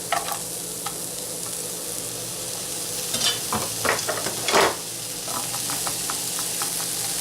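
Onions and garlic sweating in a pan for stuffed portobello mushrooms, a soft continuous sizzle with a few clustered scrapes and stirs mid-way, close and alone.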